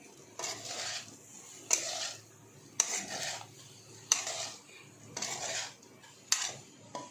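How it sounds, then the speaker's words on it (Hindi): Crispy Sindhi-style fried potatoes with fresh coriander are tossed in a metal pan, giving a series of about five rhythmic scraping clatters with sharp metallic clinks, close but fairly quiet. "हरी धनिया को डाल के भी इसको एक बार फिर से टॉस कर लेंगे"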